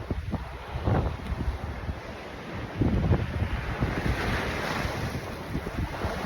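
Ocean waves breaking on a shore during a fishing outing, a continuous rushing surf mixed with heavy wind buffeting the microphone, with a louder surge of water near the middle.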